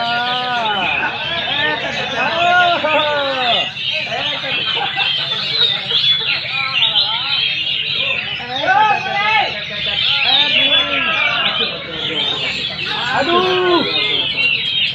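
Songbirds singing at a bird singing contest in Sekadau, Indonesia, a dense loud chorus of chirps and warbles nonstop, with crowd chatter mixed in.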